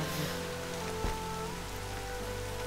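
Steady rainfall in the video game Horizon Zero Dawn, a dense continuous hiss of drops on surfaces at even loudness throughout, with no talk.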